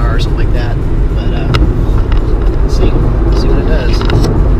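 A Nissan Leaf electric car cruises on an interstate, its steady road and tire rumble loud and continuous under someone talking throughout.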